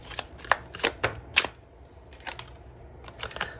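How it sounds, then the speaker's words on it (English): Tarot cards are shuffled and drawn from a deck, making a string of quick papery flicks and slaps, loudest near the start and then lighter taps afterwards, close to the ear with no talking. "let's grab another card here"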